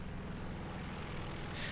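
A steady, loud engine drone from an SM-91 airplane in War Thunder, with a constant roar that holds without a break for under two seconds.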